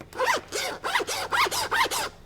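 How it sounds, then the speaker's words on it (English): The zipper of a Divoom sling bag is drawn open in five quick, close rasping pulls, each a bright scratchy burst with short gaps between. "So the bag, that zipper feels pretty good"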